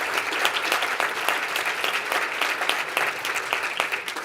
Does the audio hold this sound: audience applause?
yes